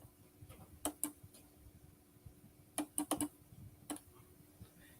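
Crisp, close clicks from a computer mouse used to open a link, a pair of quick clicks early, then a tight cluster of four and one more later, quiet and isolated over faint room noise without speech.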